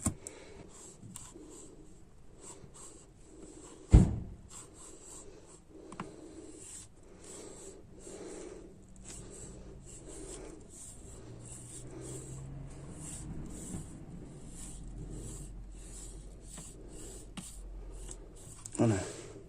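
A defect caused by a knot in a wooden floorboard is cut out, giving steady scraping and sawing strokes with a couple of sharp knocks, close by.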